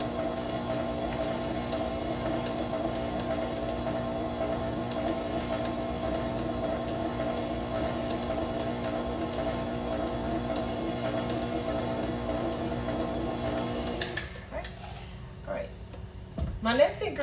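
An electric mixer blends cookie batter with a steady, even whir that runs continuously for a long stretch, then cuts off near the end, leaving a few faint clinks and quieter background sounds.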